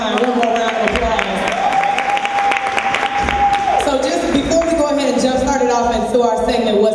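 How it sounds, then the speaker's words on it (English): Studio audience claps and cheers for a guest co-host on a Newlywed Game-style show, with lively applause under a sustained tone and voices and music mixed in throughout. "One more round of applause."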